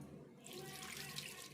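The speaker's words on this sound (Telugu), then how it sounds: "నీళ్ళు వేసుకొని కడిగి తీసుకుందాము." Tap water runs and splashes faintly and continuously as flattened rice (poha) is rinsed in a bowl, a soft, even washing sound without talk.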